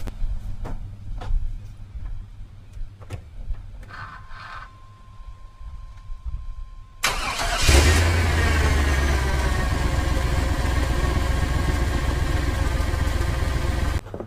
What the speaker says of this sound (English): Now I'm going to go inside and crank up the truck.